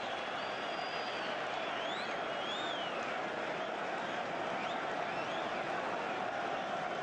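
Distant, steady crowd noise at Stamford Bridge during a Chelsea versus Manchester United football match, a continuous wash of murmur and faint cheering with occasional whistles rising above it.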